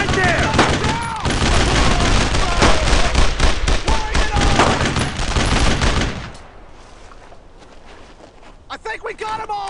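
Dense, loud gunfire from World War II squad combat in Brothers in Arms: Road to Hill 30, with rapid bursts and single shots crowding the first six seconds under shouted talk, then dropping to sparse, quieter shots.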